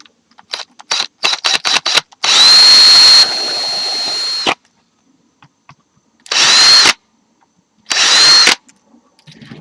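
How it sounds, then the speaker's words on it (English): A power drill whirs in three separate bursts while drilling pilot holes in a PlayStation 2 case, the first longer with a pitch drop, after a series of short clicks; nearby and loud, no talking. "when you drill with a smaller drill bit, you can really center it correctly"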